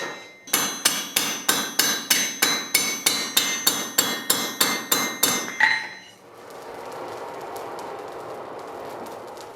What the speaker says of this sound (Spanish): Manuel va conformando a golpe de martillo los enganches de los extremos y la curvatura del asa.